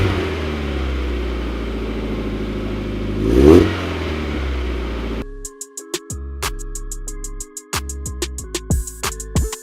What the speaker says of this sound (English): we're going to turn it on and listen to the glorious sound of the Cobalt exhaust